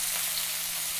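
Pork sizzles steadily in about three tablespoons of hot oil, a dense, even frying hiss that holds for a moment with no talk.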